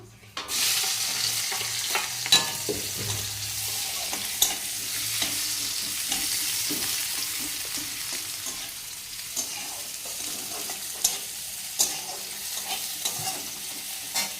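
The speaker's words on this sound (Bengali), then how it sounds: "ব্যাস, এবার এটাতে তেলে পেঁয়াজটা দেবো।" Onions added to hot oil for a chicken curry fry with a bright, continuous sizzle, close by, broken by scraping stirs and small clinks of the utensil against the pan, no voices.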